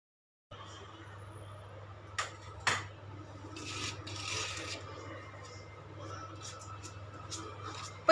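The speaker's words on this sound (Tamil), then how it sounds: "இப்போ இது எல்லாத்தையும் நம்ம ஜலிச்சு எடுத்துக்கலாம்." Ragi millet flour mixed with a little cardamom powder is sifted through a sieve in a kitchen, making soft continuous rasping and rubbing with a couple of sharper taps, quiet and close.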